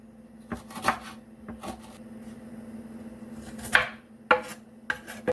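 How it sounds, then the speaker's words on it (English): Scattered knife chops chopping ginger on a cutting board, a few irregular sharp knocks against a low steady kitchen hum, close by with no talking. "So I finished chop my ginger"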